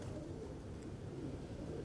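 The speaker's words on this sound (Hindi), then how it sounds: "आप देख सकते हैं सलारा कबूतर है माशाल्लाह" A Salara pigeon coos softly in a low, rounded murmur, faint and continuous against quiet background noise.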